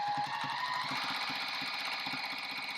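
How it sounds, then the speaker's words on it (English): A Juki TL18QVP Haruka sewing machine stitching stretchy lightweight material: a steady, rapid mechanical thumping with a faint whine above it, close and even-paced. "We'll show you just how it can handle sewing this stretchy material."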